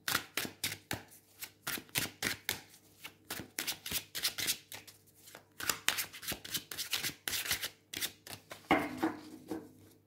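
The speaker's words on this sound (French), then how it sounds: "je vais donc vous tirer 3 cartes du Lost Forest" Tarot and oracle cards being shuffled and drawn from a Lost Forest deck, a steady run of crisp riffling slaps, close and quiet, with no talking.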